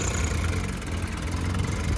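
Swaraj 744 FE tractor engine running steadily at a constant idle-like drone, close and fairly loud with a strong low rumble and no talk.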